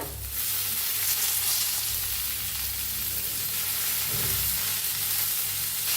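Green chillies and fresh coriander roast in a pan while being stirred, giving a steady, close sizzle with a soft scrape of stirring, and no talk over it.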